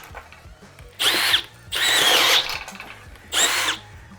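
DeWalt DCD800 cordless drill boring a self-feed bit into wood, three loud whining bursts of drilling separated by short pauses, the motor straining as the bit bogs down.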